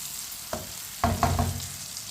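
Chopped tomatoes cooking in a pan for potato sabzi, a soft sizzle with a few scraping stirs of a spoon, close and moderately quiet, no voices.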